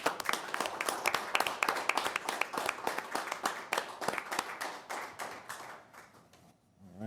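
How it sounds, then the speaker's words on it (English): County board meeting attendees clap for public health staff, a close, brisk patter of individual hands that thins out and stops near the end. "we should give them a big round of applause"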